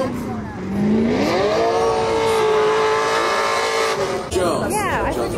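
A turbocharged LS-powered Nissan S14 drift car holds a loud, sustained engine note through a long slide at a pro drifting event, pitch climbing then steadying, with a commentator talking over it throughout.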